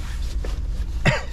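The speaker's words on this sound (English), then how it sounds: "Don't mind my cough" A short, single cough bursts out close to the mic near the end, from someone shopping for a tape measure and spray paint at Lowe's before finishing a large paver patio job, over a low steady store hum.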